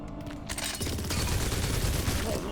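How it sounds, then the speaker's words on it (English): Cannon fire in the video game Silksong: a dense, loud burst of booming blasts and rapid explosive impacts that rolls on continuously for a couple of seconds. "Just unleash the cannon."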